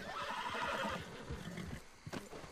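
A horse whinnies in the Red Dead Redemption video game, a fairly quiet, drawn-out neigh followed by a shorter snort, with faint hoof clops beneath.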